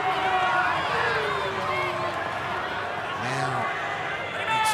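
Rugby league crowd noise fills Kayo Stadium at an NRL match between the Dolphins and Canberra Raiders, a constant broad rumble of a packed stand sitting beneath a commentator talking almost throughout.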